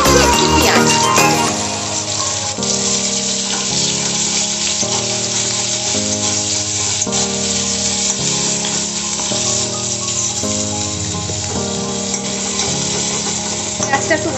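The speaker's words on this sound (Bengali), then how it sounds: "ওই তেলেই আমি দিয়ে দিচ্ছি একটি পেঁয়াজ" An onion sizzles steadily in oil tempered with nigella seeds, a continuous close frying hiss running throughout beneath sustained background musical tones.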